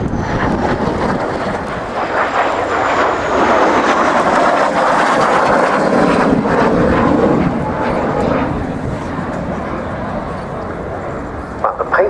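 A MiG-15 jet fighter flying past at the RAF Cosford air show, giving a loud, sustained broadband jet roar that swells and slowly fades across the pass.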